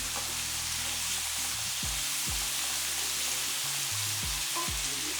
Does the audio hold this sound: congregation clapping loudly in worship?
no